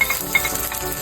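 Garlic sautéing in a little cooking oil in a pan while being stirred, a close, continuous sizzle with light scraping stir strokes, brief and steady.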